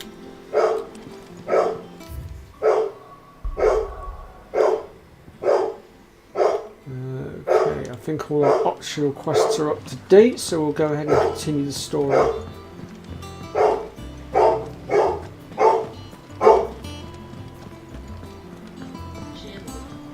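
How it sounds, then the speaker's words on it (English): A dog barks repeatedly in steady bursts throughout in Final Fantasy XVI, fairly close, while someone talks over it. "You'll have to excuse the barking, I'm afraid, folks. That's my neighbour's dog"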